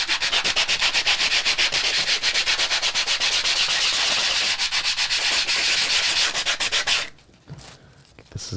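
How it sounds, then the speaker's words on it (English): A wooden coaster is sanded by hand in rapid, rhythmic back-and-forth strokes, a loud, close scratchy rasp that runs steadily and then drops to quieter, slower rubbing near the end. "Are you just sanding the one side?"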